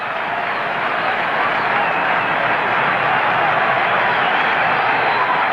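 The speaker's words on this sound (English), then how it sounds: "Listen to this crowd. They're unbelievable." A 1978 baseball stadium crowd at an Angels game roaring in a dense, continuous wall of cheering and clapping, loud and unbroken throughout.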